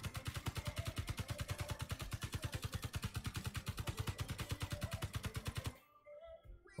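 Rapid automatic gunfire from Space Engineers, aimed at a steel plate: a steady, loud, evenly spaced burst of shots that runs for nearly six seconds and then stops abruptly, with no talking.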